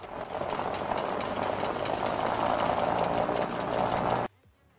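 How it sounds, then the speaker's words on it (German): A snow plow engine runs roughly in the Snow Plowing Simulator video game, a loud, steady, rattling drone with a knocking texture that cuts off abruptly near the end and leaves near silence. "Der Motor hört sich nicht gesund an."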